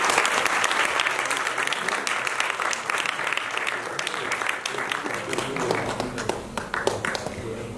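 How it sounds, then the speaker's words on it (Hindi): An audience at a theatre festival's lifetime achievement award ceremony claps steadily for several seconds. The applause is dense and close, with individual claps standing out. "दोस्तों ताली बजने दो प्लीज।"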